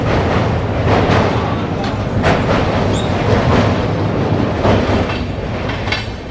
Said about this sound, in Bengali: পাস থেকে আমরা ক্রস করছি পুরনো অমৃত ভারতকে